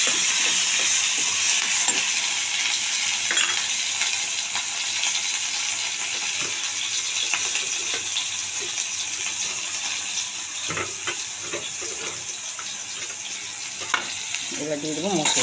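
Tomatoes and bay leaves fry in hot oil in a pan, giving a steady close sizzle with scattered scraping clicks as the mixture is stirred throughout.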